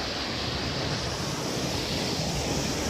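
Tat waterfall flowing in natural surroundings, a steady full-band roar of rushing water that stays constant and close throughout with no voices.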